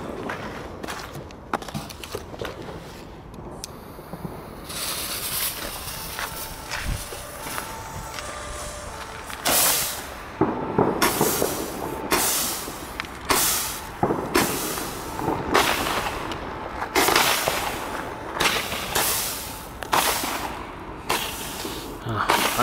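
A Comet Horizon 15-shot firework battery fires a rapid series of loud cracking bursts, each followed by hissing and crackle, with spaced launches early and a denser string of reports toward the end, outdoors at a distance.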